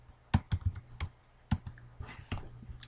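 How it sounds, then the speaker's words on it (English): A computer keyboard clicks as a password is typed, several quick, close, soft keystrokes in an uneven rhythm with short pauses, alone in a quiet room. "And type in his password."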